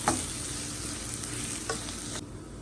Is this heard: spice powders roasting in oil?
yes